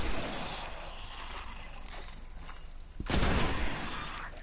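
Gunfire in Destiny rumbles through a noisy game mix, with a sharper, louder burst of shots erupting near the end over steady background effects.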